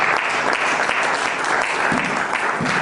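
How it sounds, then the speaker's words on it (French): A church congregation applauds steadily and loudly for the whole stretch, a dense, even wash of clapping hands with no pauses. "On acclame le Seigneur."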